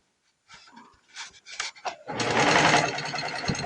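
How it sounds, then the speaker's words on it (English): Sewing machine stitching patchwork from jelly roll scraps, opening with a few short separate needle bursts while back tacking, then a sustained loud run of rapid stitching. "I'm going to cue the needle up with where the end of that stitching was, where I back tacked. And then back tack again."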